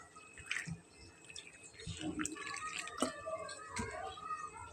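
Cold room-temperature water is added slowly to flour while mixing a soft dough for stuffed potato flatbread, giving faint, scattered drips and soft squishy mixing sounds over a quiet kitchen background.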